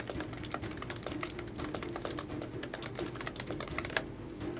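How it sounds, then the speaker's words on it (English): Rapid clattering keystrokes on a loud computer keyboard, steady and close, continuing without pause and with no voices over it. "Loud keyboard"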